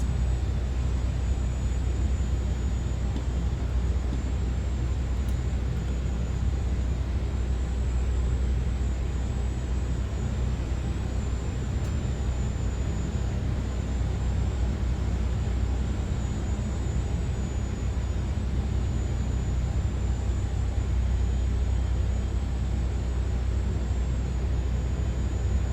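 Steady, loud roar of an Airbus A400M military transport's turboprop engines during its takeoff run, heard from inside as a constant broadband drone with a faint high whine and no breaks.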